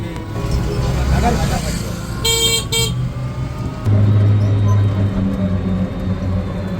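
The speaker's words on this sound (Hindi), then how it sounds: "अभी हम जिस टोटो में बैठे हैं उसके बगल में और इतने से टोटो थे, ऐसा लगा कि टोटो की रेसिंग चल रही है" Busy road traffic around e-rickshaws (totos) racing side by side in Varanasi, with engine rumble, short bursts of horn honking and a sustained low vehicle drone, while people talk nearby.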